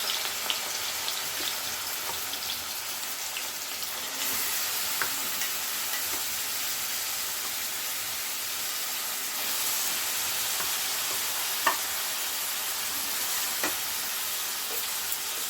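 Grated radish fries in hot oil with nigella seeds in a pan, giving a continuous soft sizzle with occasional scrapes and clicks of stirring, heard close and without talk.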